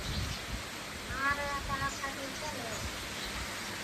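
Rain and wind outdoors make a constant broad rushing hiss, while a person talks over it partway through.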